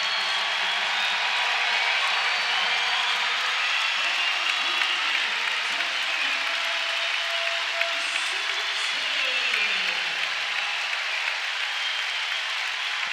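Basketball arena crowd at a Michigan–Nebraska game stands and cheers, a dense, steady roar filling the space for the whole stretch, with a commentator talking over it.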